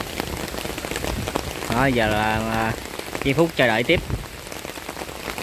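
Rain pattering steadily on the surface during a river fishing outing, a continuous fine hiss throughout with a voice talking over it partway through.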